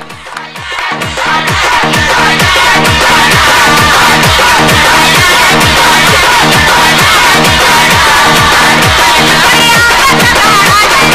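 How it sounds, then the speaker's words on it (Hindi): A loud, dense crowd roars and cheers at a local cricket match, the noise swelling within the first second and then holding steady and unbroken right to the end. "जोरदार तालियां"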